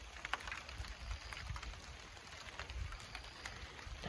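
Rain falls on a hillside vegetable garden where chili peppers are being picked, a steady, soft hiss with scattered drop patter and occasional rustling, no talk.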